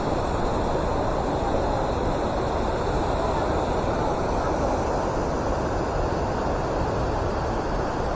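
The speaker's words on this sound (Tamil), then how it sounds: "தண்ணி சவுண்டே பயங்கரமாக இருக்குங்க." A rushing stream tumbles over rocks at an Ooty waterfall, a loud, steady, close roar of churning water that never lets up.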